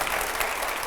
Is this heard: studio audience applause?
yes